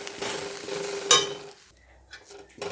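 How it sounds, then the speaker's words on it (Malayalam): Spice powders, chilli, coriander and turmeric, being stirred into chicken curry masala in a pan: close frying hiss with a sharp metal scrape of the spoon, then a quieter pause before stirring resumes, no talk. "ഇവയെല്ലാം ആവശ്യത്തിന് ഇട്ടിട്ട് നമ്മൾ വീണ്ടും ഇളക്കി കൊടുക്കുക"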